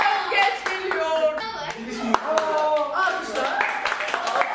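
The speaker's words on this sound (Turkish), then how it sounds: "Alkışla! Alkışlar geç geliyor." An acting class claps for a student, with scattered hand claps mixed into lively voices speaking and laughing over them.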